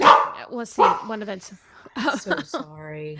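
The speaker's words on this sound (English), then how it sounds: "That is my dog." Dog barks in a house, a few sharp yaps scattered under a person talking, near and fairly loud.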